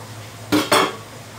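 A bowl is pulled out from among other dishes in a kitchen, two quick ceramic clinks in close succession, near and clear against a quiet background.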